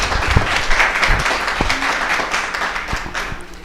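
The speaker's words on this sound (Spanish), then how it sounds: "Denle un aplauso al Señor por esto." Church congregation applauding during a service, a steady crowd of hands clapping throughout with scattered louder close claps.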